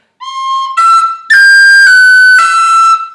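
A tin whistle plays a short phrase of clear, bright notes, the first two tongued with crisp separate attacks, the rest slurred smoothly together, close and loud.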